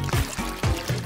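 Water poured into a container, a short run of quick gurgling glugs close up, heard alone.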